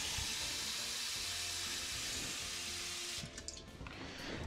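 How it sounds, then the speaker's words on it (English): Water runs steadily from a tap into a cup with a constant hissing rush, then the flow changes near the end as the cup fills. "Just filling that cup with water"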